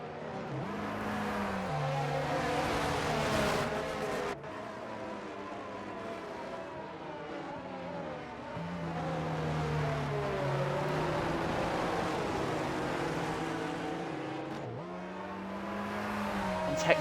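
Formula 1 race cars in a racing video game at the Singapore circuit in light rain, engines droning and rising through gears as cars pass, with shifting pitch sweeps and a steady background roar.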